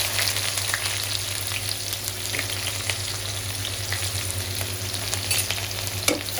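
Chopped onion frying in a pan, a steady dense sizzle held close and fairly loud throughout with faint stirring, ending in a single sharper clink, and no talking.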